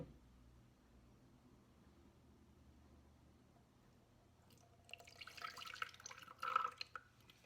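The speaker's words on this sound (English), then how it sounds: "Pour it in the pitcher, super easy." Slime made from potato is poured into a pitcher, a short wet splash and gurgle of liquid that starts faint and builds toward the end, close and alone over quiet background hiss.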